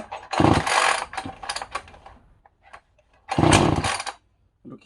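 A Husqvarna 445E chainsaw's pull cord is yanked twice in quick bursts, each a rough, rattling whir, with a few small mechanical clicks in between.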